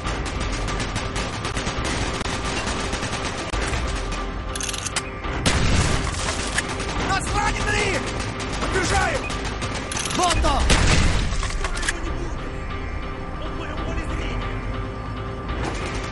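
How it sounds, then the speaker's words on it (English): Call of Duty: Black Ops gunfire and explosions crackle through the whole stretch, with heavier booms around the middle, while voices call out beneath the battle noise. "Gunfire's drawing attention."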